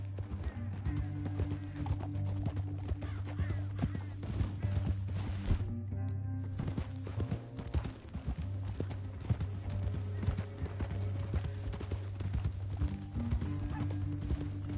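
Horses gallop in Red Dead Redemption 2, a steady rapid clip-clop of hooves running under a continuous low rumble, with a brief dropout midway and an occasional whinny.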